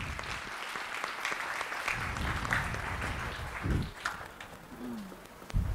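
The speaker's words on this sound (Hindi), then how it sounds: "जोरदार तालियां।" An audience at a spiritual workshop gives a round of applause, a moderate, fairly distant patter of clapping that fades in and out, with a few low thumps and a brief cooing or voice-like sound near the end.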